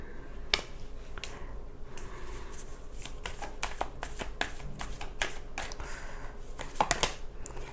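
Tarot deck being shuffled by hand, a continuous close riffle of card flicks and slides with sharper snaps scattered through, no speech.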